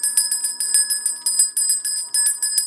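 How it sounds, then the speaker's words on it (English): A small bell rung in rapid repeated strokes for a ritual prayer, bright ringing tones sounding close and clear in quick clusters with short pauses, no voices. "All right, so I'm going to ring the bell."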